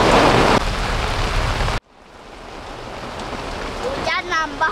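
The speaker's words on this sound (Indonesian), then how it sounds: "Hujannya gede lagi." Heavy rain roars loudly on a tent, then the sound cuts sharply and a softer steady downpour continues, with a voice briefly calling out near the end.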